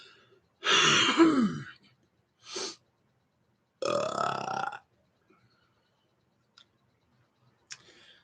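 Three separate burps from one person, the first long and loud, a short quieter one after, then another long one, with near silence and faint clicks between them.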